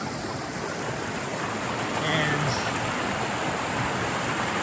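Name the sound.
water flowing in a rocky brook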